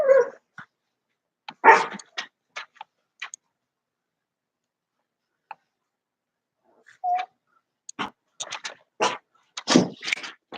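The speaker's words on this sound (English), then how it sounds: "I have restless dogs." Restless dogs bark indoors in scattered short yips and woofs, a couple early on and a denser run of barks toward the end, moderately close with quiet gaps between.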